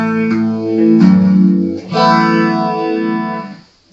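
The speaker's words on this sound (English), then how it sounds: "It's almost becoming chorus pedal." Electric guitar played through a chorus-like modulation pedal on a pedalboard, sustained chords shimmering and swirling with a loud, close, slightly distorted tone and no talking.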